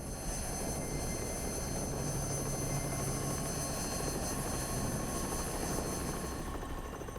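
A helicopter flies steadily, its engine and rotor making a constant, moderately faint drone with no voices and no sharp changes.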